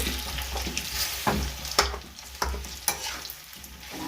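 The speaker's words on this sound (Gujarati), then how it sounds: "જ્યાં સુધી ખજૂર શેકાય ત્યાં સુધી આ રીતે આપણે હલાવતા રહેવાનું" Dates roasting in ghee in a pan are stirred with a spoon, giving rhythmic scraping strokes over a steady close sizzle, with no talking.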